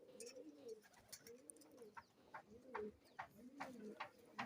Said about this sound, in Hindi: माशाअल्लाह गोल्डन कबूतर